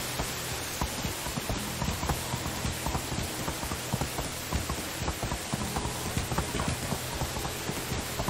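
Horse hooves clip-clop at a steady riding pace in the Medieval Dynasty video game, a continuous rhythmic patter under a dense, hissy wash of ambient noise with no talking.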